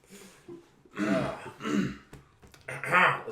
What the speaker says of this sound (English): Everybody's clearing their throat.